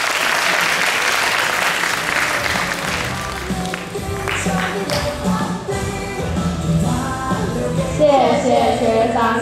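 An audience at a club anniversary stage show applauds with steady, dense clapping for the full stretch, loud and close, with scattered cheers and voices rising through it and a brighter burst near the end.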